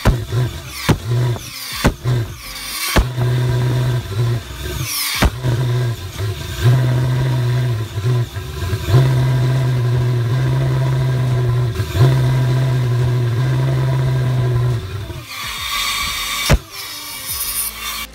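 A homemade valveless pulse jet engine with patched, rough welding runs in sputtering bursts, giving a loud, steady, rough drone that is broken by several sharp pops and cutouts and then fades near the end.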